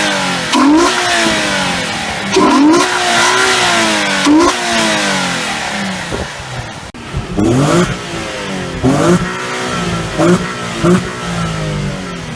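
A 2007 Infiniti G35 engine revs up and down repeatedly through aftermarket DC Sports intakes, its throaty intake roar rising and falling in pitch, loud and close with no talking.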